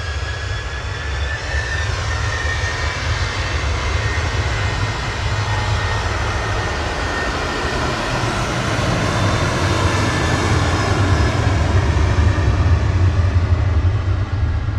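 An old TUI airliner departing Manchester Airport, its jet engines producing a loud, sustained roar that builds slightly toward the end and fills the whole stretch without any talk.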